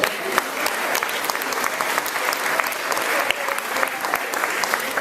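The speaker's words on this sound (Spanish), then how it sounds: "Un fuerte aplauso." Church congregation applauding loudly and steadily during a Spanish-language sermon on the Holy Spirit, dense clapping sustained throughout.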